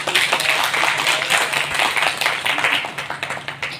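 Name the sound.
audience applauding to welcome guests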